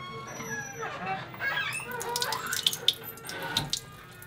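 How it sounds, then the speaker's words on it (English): Water runs from a tap into a sink during handwashing in a men's restroom near a 12th-century tower, a soft, steady splash at moderate distance with a few sharper bright sounds mixed in. "And that's how you wash your hands here."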